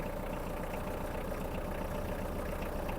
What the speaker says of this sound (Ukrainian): Дамо двигуну трошки прогрітися